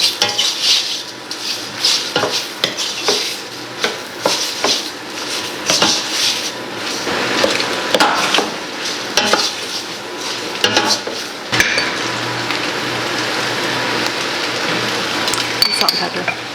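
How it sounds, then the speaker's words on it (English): A utensil stirs food around a pan, scraping and clinking against the metal with sizzling underneath, in a home kitchen with Parmesan on hand. Irregular clatter runs throughout, fairly close and steady. "stir it up."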